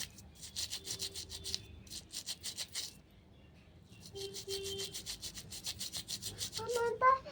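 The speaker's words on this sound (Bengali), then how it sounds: "ভালো করে ব্রাশটা দিয়ে ঘষে নিতে হবে যাতে গায়ের মানে পায়েলের ভেতরে যা ময়লাগুলো আছে সব যাতে বেরিয়ে আসে" A brush scrubs a silver anklet in rapid, rhythmic strokes, with two close bursts separated by a short pause and a faint clink at the end.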